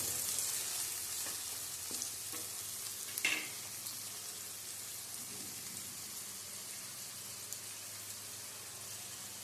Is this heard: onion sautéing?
yes